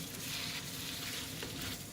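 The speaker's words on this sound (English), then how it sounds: "I'm just going to let that simmer away for just a little bit now" Spaghetti bolognese sauce in a pan, a continuous, fairly quiet bubbling sizzle with steady texture and no talk.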